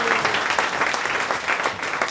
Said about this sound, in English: Yes, you're right to applaud.